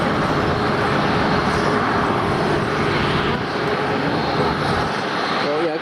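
Aircraft at Amsterdam Schiphol Airport, including a pushback, a continuous broad jet engine roar holding steady and fairly loud throughout.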